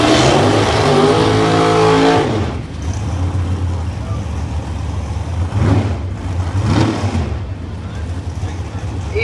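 Drag race between a 1978 Pontiac Trans Am with a 500 cubic inch engine and a Chevrolet Corvette with a 424 cubic inch engine: loud sustained engine roar for about two seconds, then fading drive-by noise with surges, under a track announcer's voice.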